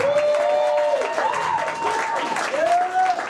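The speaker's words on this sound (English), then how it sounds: "Give my dad a round of applause" Comedy club audience applauding and cheering for a comedian's visiting dad, a steady wash of clapping with whoops and crowd voices rising over it, filling the room throughout.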